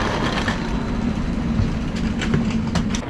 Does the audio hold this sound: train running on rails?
yes